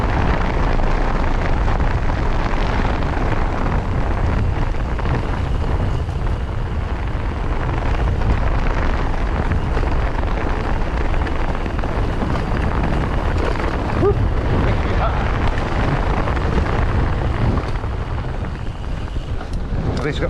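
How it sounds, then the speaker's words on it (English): Heavy wind buffeting the microphone on an outdoor trail ride, a constant loud low rumble and roar that fills the whole stretch without letup. "So windy"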